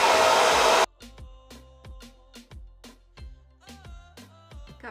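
A hair dryer on a warm setting drying hair blows with a loud, steady whooshing roar for under a second, then cuts off abruptly as rhythmic music with a thumping beat takes over.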